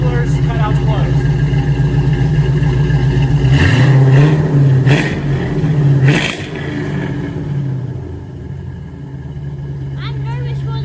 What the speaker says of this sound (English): We're gonna do a rev through the mufflers, cutouts closed.